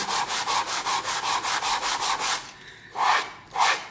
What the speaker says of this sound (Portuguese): E o último passo, que daí eu vou fazer essa mesma coisa nos 4 lados, né? É dar uma lixadinha.